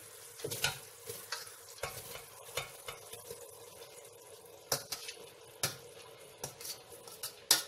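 Rice being stirred into sugar syrup in a pot for zarda, sweet rice, with sharp intermittent scrapes and clinks of the spoon against the pot over a quiet bubbling background.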